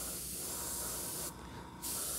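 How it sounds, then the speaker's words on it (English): Aerosol paint sprayed onto miniature scatter terrain, a steady close hiss running continuously with a short lighter burst in the middle, no talking. "I'm going to try not to go completely overboard spraying the paint everywhere"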